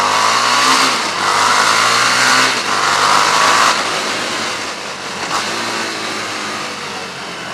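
A Harley-Davidson Street 750 motorcycle engine accelerates on the road, a loud, close, steady drone that rises in pitch through repeated gear changes with brief dips between them.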